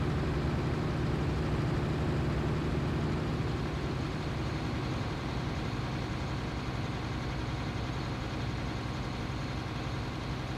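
A tractor engine in Farming Simulator 19 idles and rumbles steadily, a low, even drone that stays constant and close throughout with no talk over it.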